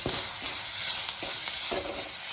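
Carrots stir-fried in a hot pan for egg fried rice, a loud continuous sizzle broken by several sharp scrapes and stirring knocks of a spatula.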